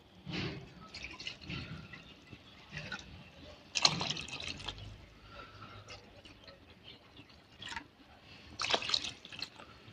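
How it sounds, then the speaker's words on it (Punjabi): Several separate pours of water splash into a pot of khichdi, each a short sloshing burst with quiet gaps between. "ਨਾਪ ਕੇ ਆਪਾਂ ਇੱਥੇ 4 ਕੋਲੀਆਂ ਪਾਣੀ ਦੀਆਂ ਪਾਵਾਂਗੇ"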